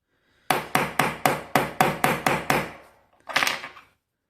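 A screwdriver is tapped repeatedly to knock the pin out of a VW Golf MK5 key, eight sharp evenly spaced close knocks followed after a pause by one softer, scraping hit.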